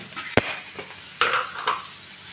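A spoon clinks and scrapes in a pan while ivy gourd (tindora) sabzi is stirred, giving a sharp metallic tap followed by a few softer scraping strokes, close and fairly quiet.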